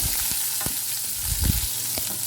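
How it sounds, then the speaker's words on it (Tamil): Small onions sautéing in oil with asafoetida for a cucumber sambar, a continuous hiss of frying broken by several low spatula knocks and scrapes against the pan, close up and without speech. "வெங்காயம் சேர்த்துட்டு நல்லா நம்ம வதக்கி விட்டுக்கலாம்"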